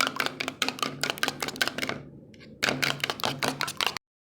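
Egg seasoned with black pepper and salt is beaten in a bowl, making quick, rhythmic tapping clicks that stop for a moment partway through and then resume at the same brisk pace.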